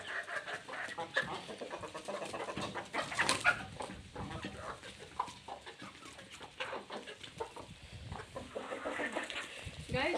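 Village chickens in Pakistan, including two hens, a rooster and small chicks, cluck and call on and off for about ten seconds, with bursts of louder squawks among rustling background noise.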